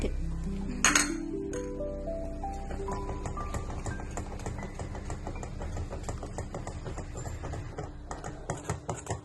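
A spoon stirs custard mixture into boiling milk in a metal pot, making steady rhythmic clinks and scrapes against the pot's sides for several seconds, with no voices.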